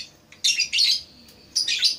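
A songbird in gacor singing condition chirps in bright, rapid bursts, three loud clusters of tweets separated by short pauses, close and clear with no talking.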